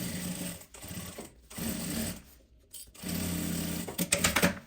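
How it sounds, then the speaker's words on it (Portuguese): A sewing machine stitches nylon 600 fabric in steady humming runs, close and fairly loud, stopping briefly a couple of times before resuming with a few sharp clicks near the end. "Aqui eu estou costurando com a margem de costura de 1 centímetro, tá?"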